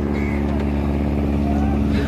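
On a boat leaving Chhatirchar in Nikli after rain, a small engine hums steadily and close as the craft sets off, with people talking over it.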